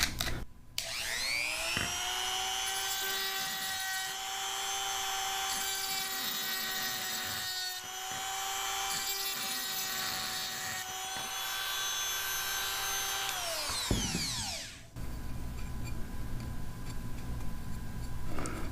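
A green grinding stone on a rotary tool deburrs the inside of a stainless steel drinking straw: a high steady whine spins up, holds for about twelve seconds with slight grinding rasp, then winds down, followed by faint handling noise.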